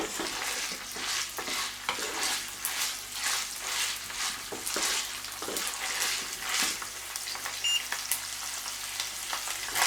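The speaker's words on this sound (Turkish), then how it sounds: "Bunlarla birlikte biraz kavuralım soğanla." Quartered small onions sauté in a hot pan with a steady sizzle, broken by repeated scraping and stirring strokes at a roughly even rhythm, close and moderately loud, with no talking.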